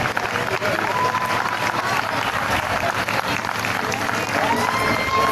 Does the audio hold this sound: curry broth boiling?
no